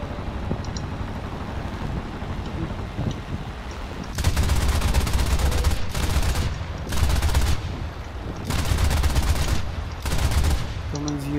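Anti-aircraft guns firing in War Thunder, with a Japanese A6M5 Zero fighter in the scene, loud sustained bursts of rapid fire in several long volleys over background engine drone.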